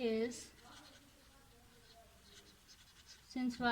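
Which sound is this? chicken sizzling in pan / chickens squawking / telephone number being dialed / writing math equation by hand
writing math equation by hand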